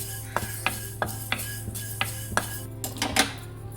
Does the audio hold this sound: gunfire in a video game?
no